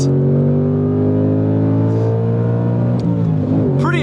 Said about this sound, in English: this engine though, all consuming in the experience.